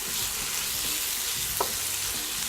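Chorizo frying in its own rendered fat in a pan gives a steady, close sizzle throughout, with a brief sharper scrape or stir near the middle.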